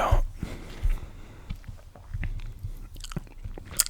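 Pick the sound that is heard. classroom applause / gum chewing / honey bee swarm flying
gum chewing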